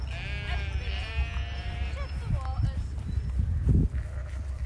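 Ewes on a farm during lambing give several close bleats in a row, mixed with rustling and thumps from the animals moving about, while a person speaks quietly nearby.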